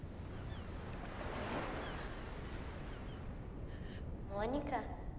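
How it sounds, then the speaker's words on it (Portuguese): Ocean surf washes in with a steady broadband rush that swells briefly near the middle, with a faint tonal voice or call toward the end. "Aí vem uma onda e..."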